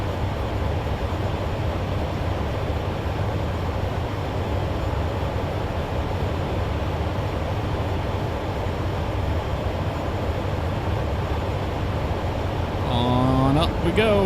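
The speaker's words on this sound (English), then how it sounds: "Let's go ahead and punch it, afterburner." An F-18 Super Hornet in Microsoft Flight Simulator roars with a dense, steady afterburner blast, a broad rushing jet rumble that holds loud throughout, with a person's voice breaking in near the end.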